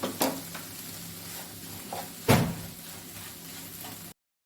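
Green gram and jaggery mixture with cardamom powder being stirred in a pan for sukhiyan filling, with a steady low sizzle and a few scraping spoon strokes, one louder scrape partway through, no talk.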